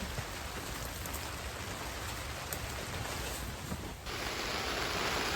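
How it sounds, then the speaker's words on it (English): Steady, heavy winter rain pattering on a polytunnel, a dense continuous hiss with no voices, briefly dipping near the end before resuming. "as you can hear, the rain hasn't eased off at all"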